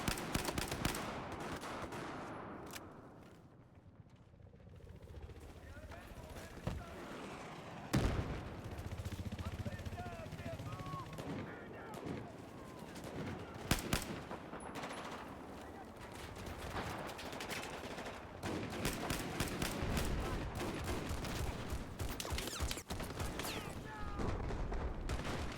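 Battlefield 4 multiplayer gunfire fills the scene: rapid bursts and single rifle shots crack in clusters, with heavier booms at times and a tank in play, over a constant rumbling battle bed while a player talks intermittently.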